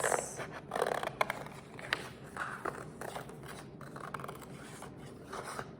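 Scissors cut through paper for a fall art craft, giving close, soft rasping snips and scrapes in an uneven rhythm, with no one talking.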